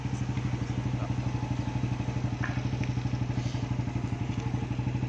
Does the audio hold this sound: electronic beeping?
no